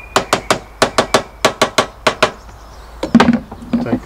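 Light hammer taps fitting a cut length of pipe into place for a chicken watering system: a quick run of about a dozen sharp, close knocks, then a pause and a few softer clattering hits.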